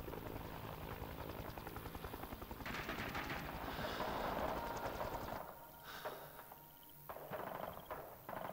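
A military helicopter in the Vietnam War shooter Rising Storm 2: Vietnam thumps loudly and continuously, with bursts of machine-gun fire mixed in before the rotor noise fades slightly.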